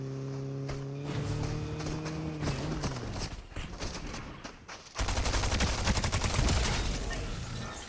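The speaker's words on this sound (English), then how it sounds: "they're already shooting at me." Gunfire in the Fortnite video game aimed at the player, rapid rattling bursts of shots layered over an engine tone that fades out, then a dense, louder run of rapid fire near the end, with no talk.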